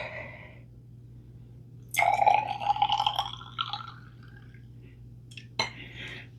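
Silver nitrate solution is poured from a container into a glass measuring cylinder in a chemistry lab, a short trickling splash lasting about two seconds, followed by a single light glass clink against a quiet background.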